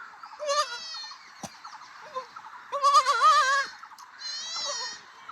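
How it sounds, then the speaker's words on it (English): A young male goat bleats for its mother in a Himalayan shepherd setting, giving three loud, wavering cries separated by short quiet gaps and a faint click, with no other voices. "This male goat is missing for his mom."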